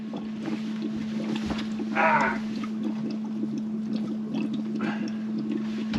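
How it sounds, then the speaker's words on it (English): Water gurgles in short, faint bursts in the pipes of a Bailey motorhome, heard over a steady background hum. "I can hear the gurgling."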